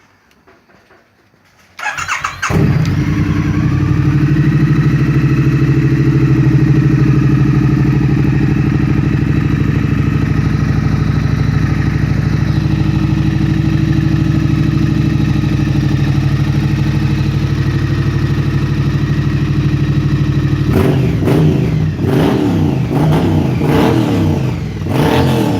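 Triumph Street Twin motorcycle with drilled-out exhaust baffles starts up after a short silence, then idles and revs loudly and steadily for about twenty seconds, with sharper throttle blips near the end.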